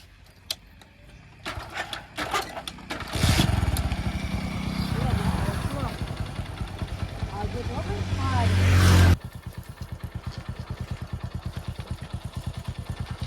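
A motorcycle engine roars loudly for several seconds, then drops into a steady, rapid chugging idle, with voices talking over it.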